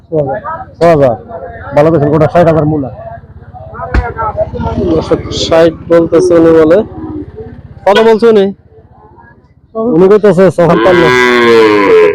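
Cattle at a village cattle market, several loud, close moos in repeated bursts, one long drawn-out call near the end, with people talking in between.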